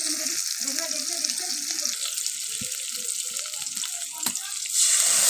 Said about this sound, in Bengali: কড়াইয়ের মধ্যে তেল গরম করে নিয়ে তাতে দিয়ে দিলাম গোটা জিরে, 3টে শুকনো লঙ্কা আর টমেটো